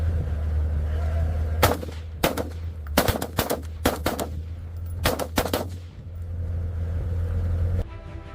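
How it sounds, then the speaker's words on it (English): Gunshots fired from a helicopter at wild boar on a steep hillside, a series of sharp cracks in irregular clusters over a constant low rotor drone. "From the air, the gunner has a clear shot, essential for a clean harvest on this steep hillside."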